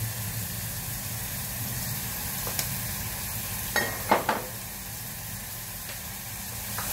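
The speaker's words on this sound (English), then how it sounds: "you can just stir fry it and then add water" Marinated minced pork stir-fried in a pan gives a steady, even sizzle throughout, with a few brief scraping clicks from stirring near the end.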